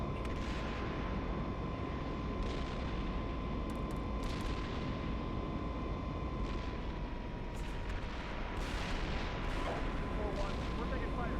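Incoming gunfire and artillery in the Steel Beasts Pro tank simulator, a dense rumbling barrage with scattered sharper cracks and booms over a steady engine hum, moderately distant, with radio-style voices talking throughout.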